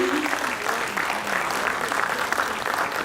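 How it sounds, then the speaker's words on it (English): An audience applauds at a Som Sickle Cell Foundation gathering as an honoree walks to the high table. The clapping is steady and sustained and fills the room from start to finish, with a voice faintly under it. "a bigger round of applause, please"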